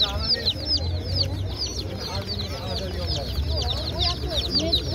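Five- to six-day-old chicks chirp constantly in a dense, overlapping chorus of high peeps, close and fairly loud, over a low murmur of background noise.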